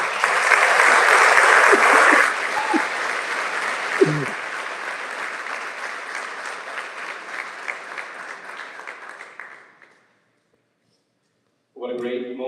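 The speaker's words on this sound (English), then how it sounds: "Let's have one more round of applause for them." Loud audience applause fills a sports awards ceremony hall, dense at first, then thinning and fading out over about ten seconds with a brief voice heard in the middle, followed by a moment of silence before talking starts.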